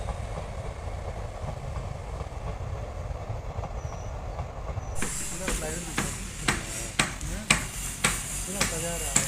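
A train passes on a rail line beside a decorated festival pandal in Guwahati, a loud near rumble that turns into rhythmic clickety-clack of wheels over rail joints with hissing, heard alone without talk.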